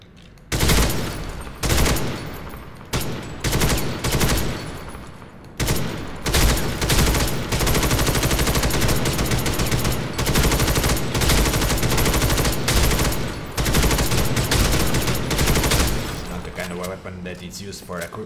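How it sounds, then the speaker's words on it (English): Dense suppressive barrage of automatic gunfire from the video game First Assault, a near-continuous roar of rapid shots with short bursts early on that give way to sustained fire, with a voice talking over it. "This is a weapon for uh, barrage fire for suppressive fire"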